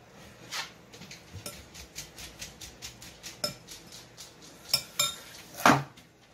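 A spoon clinks and scrapes against a bowl in a quick, regular rhythm while chicken enchilada filling is mixed with cheese, close and crisp, with a few sharper knocks near the end.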